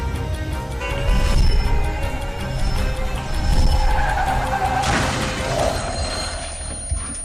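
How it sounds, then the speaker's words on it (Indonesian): Tires squeal as a car skids, followed by a loud crash and crunching impact, all close and intense in a dramatic scene, no one talking. "Mobil udah hancur tertabrak."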